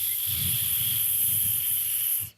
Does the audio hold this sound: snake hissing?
yes